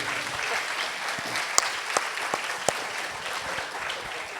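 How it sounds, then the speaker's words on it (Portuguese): Audience at a debate event breaks into steady applause, a dense wash of clapping with a few sharper individual claps standing out, sustained at moderate level throughout. "Vamos aplaudir."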